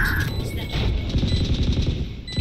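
A KJ swarm grenade goes off in the Valorant video game, a dense crackling burst of rapid small detonations lasting a couple of seconds, loud and close.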